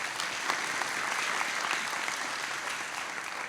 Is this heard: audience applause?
yes